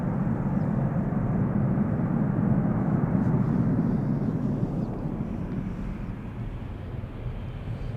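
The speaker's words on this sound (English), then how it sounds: "A350. China Airlines going to Taipei" A China Airlines Airbus A350 departs Schiphol bound for Taipei, its engines a loud, steady low roar that fills the whole stretch and eases off slightly toward the end, with no speech.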